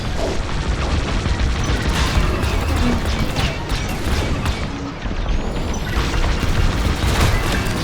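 The Vanguard's turbolasers fire in Star Wars Squadrons space combat, a dense, loud barrage of booming blasts and crashing impacts, continuous and close, with no talk.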